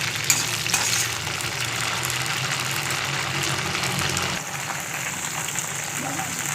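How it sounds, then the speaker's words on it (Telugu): Green chillies frying in hot oil for a bendakaya roti pachadi, a continuous close sizzle with faint stirring and a steady low hum beneath, the hiss dropping slightly partway through. "ఫస్ట్ బాగా పచ్చిమిర్చి మగ్గించుకోవాలి నూనెలో."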